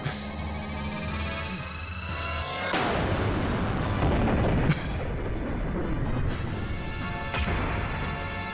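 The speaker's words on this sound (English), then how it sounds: "Fire the main gun!" A massive main gun fires in a video game, a heavy crashing boom breaking through a sustained musical drone and followed by several more rumbling impacts that keep the sound dense and loud throughout.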